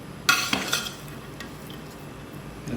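Sindhi biryani stirred in a metal pot as it is dished out, with a few sharp scraping clinks of a spoon against the pot followed by soft, quiet stirring.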